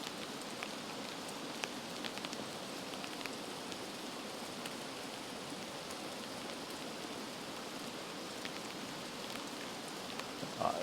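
Light to medium rain drums on a tent tarp while camping, an unbroken close hiss dotted with individual drop taps, steady and moderately quiet throughout.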